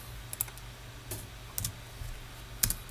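Keystrokes tapped on a computer keyboard while entering a command, a sparse run of light separate clicks with gaps between them, faint and close over a low steady hum.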